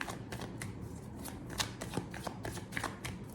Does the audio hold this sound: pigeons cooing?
no